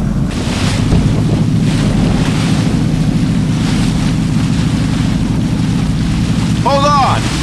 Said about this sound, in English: Another boat's coming to pick up anybody else who's left.